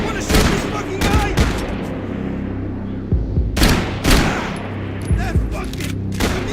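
Loud gunfire from Max Payne 3 in irregular bursts, several sharp cracks and a quick volley near the middle and end, over a constant hum of game ambience.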